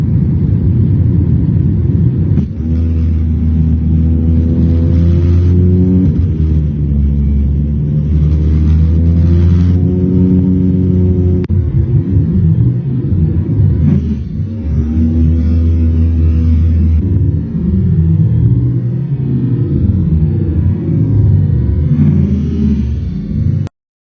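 A steady, loud jet engine roar drones continuously for the whole stretch, a deep rumbling hum with shifting tonal bands, heard from inside the aircraft cabin.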